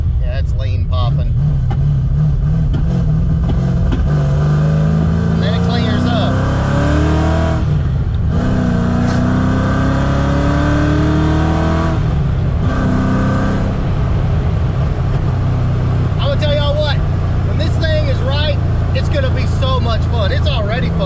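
A 331 stroker engine in a Fox body car revs and settles near by, its loud rumble rising and falling with lean popping, while people talk over it.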